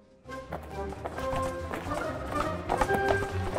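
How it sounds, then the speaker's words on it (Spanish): Orchestral piece evoking an approaching crowd's footsteps and animal hooves, with oboes, flutes, drums, violins, cellos and horns, a dense sustained ensemble with rhythmic patter that slowly grows louder and fuller. "a lo lejos pisadas de lo que se adivina una multitud y cascos de animales"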